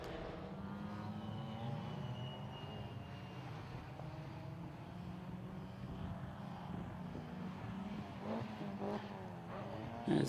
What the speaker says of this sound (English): the Fiat Panda completes another pit stop, heads back out onto the track